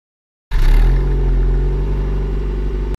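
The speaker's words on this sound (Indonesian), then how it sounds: "merupakan pesawat modifikasi dari pesawat P-51 Mustang yang dimodif sedemikian rupa agar mencapai top speed yang diinginkan" A modified P-51 Mustang racing plane with a piston engine roars loudly and close, starting abruptly and holding a steady throaty drone for about two and a half seconds before stopping.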